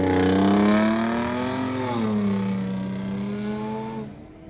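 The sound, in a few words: car with full straight pipe exhaust driving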